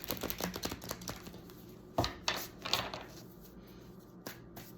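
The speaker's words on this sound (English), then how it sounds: "just going to cut the deck." Tarot cards being shuffled and the deck cut, a run of quick papery riffles and taps with a few sharper slaps near the middle, close and fairly quiet with no talking.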